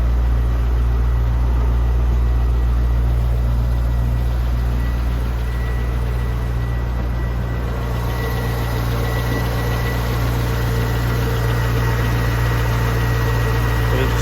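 A 2002 Corvette C5 Z06's stock LS6 5.7-liter aluminum-block V8 idles, a steady, deep, loud drone with constant low rumble throughout.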